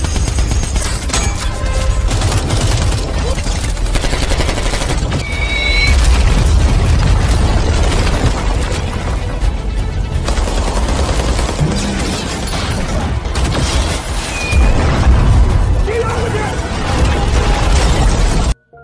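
Dense, continuous gunfire with bursts and heavy booming rocket explosions, loud and chaotic, filling the whole stretch without pause.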